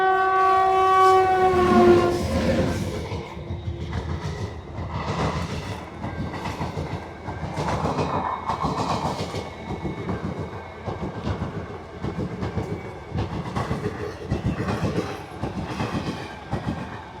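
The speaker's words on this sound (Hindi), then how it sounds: "ट्रेन आने लग रही है" A train approaches and passes on the railway, opening with a loud sustained horn blast followed by rhythmic clickety-clack of wagons rolling by close and loud, with no voices.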